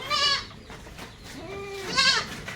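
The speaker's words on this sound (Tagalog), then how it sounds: "Ang ating mga kambing okay naman." Goats bleat nearby, two loud wavering calls with a softer one between them, over a steady outdoor background.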